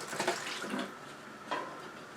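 Hot water runs from a tap into a Harbor Freight bucket in a workshop, a steady close splashing with a couple of louder surges, and no voices.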